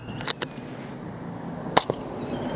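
A pocket-sized Nerf Hamster pistol fires foam darts loaded into the muzzle, giving two pairs of sharp, quiet pops a little over a second apart against faint background noise.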